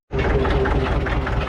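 A small 22 hp tractor engine starts up abruptly and runs loud and close, a dense rumbling drone with a steady tone throughout.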